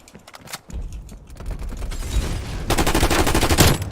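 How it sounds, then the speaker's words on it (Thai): Loud, rapid Galil assault rifle fire in Call of Duty Warzone, starting in short bursts and then building into a dense, continuous stream of shots. "เสียง ปืน เป็น ไง บ้างทุกคน"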